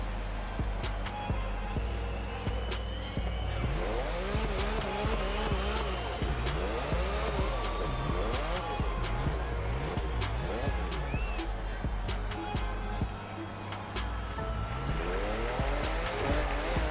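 A Nissan GTR Skyline races in The Crew Motorfest video game. Its engine revs loud and close in repeated rising and falling sweeps, with tire squeal layered over a steady driving roar throughout.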